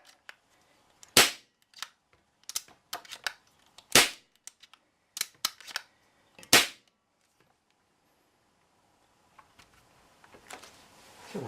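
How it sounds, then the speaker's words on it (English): Several sharp, fairly loud shots from a Brocock Concept S6 air rifle being dry-fired, spaced irregularly with short bursts close together and quiet gaps between them, followed by faint handling noise. "What's recommended is you fire a few dry shots off to start off with after topping it up."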